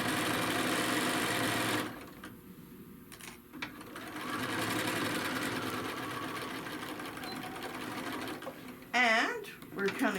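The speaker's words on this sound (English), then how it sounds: "So again, we are stitching down." A sewing machine stitches down a bag in fast, close mechanical runs broken by short pauses, with a voice speaking at points between the bursts.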